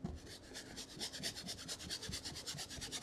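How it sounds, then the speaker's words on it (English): A paintbrush scrubs oil paint onto canvas for a mountain landscape, giving a soft, close, rhythmic bristly rasp of quick back-and-forth strokes at a low, even level, with no talking. "So I'm just really scrubbing in some color."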